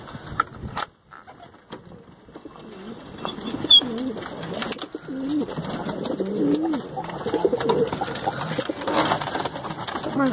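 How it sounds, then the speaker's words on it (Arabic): Pigeons coo inside a rooftop pigeon loft, soft throaty calls repeating close by, with shuffling and faint rustles, a brief louder knock early on, and a little background noise. "ندخلو نشوفو الحمام من داخله"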